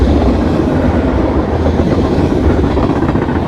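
A heavy train rumbles past close by, a steady loud roar of rolling wagons with faint rhythmic clatter throughout.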